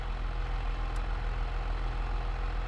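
Tractor engine idling in a farming video game, a steady low rumbling drone that holds unchanged and runs alone without any talk.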